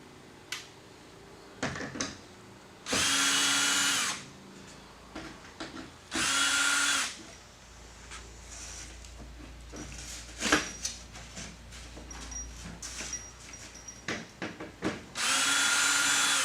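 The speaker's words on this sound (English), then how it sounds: "if we switch over to power tools" A power drill drives long screws in several bursts of steady high whine, each lasting one to two seconds, with clicks, taps and handling noises close by between runs.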